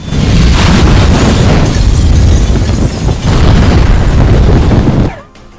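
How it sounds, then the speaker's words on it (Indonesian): A huge explosion from the 2012 disaster film The Tower, a lift blowing up during a fire: a loud, sustained booming roar that surges for about five seconds, then cuts away to a faint tail. "Ledakan kembali terjadi."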